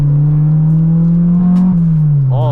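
A Honda Integra engine revs hard into VTEC while driving, a loud sustained drone that holds steady and slightly rises before easing, close and dominant in the cabin.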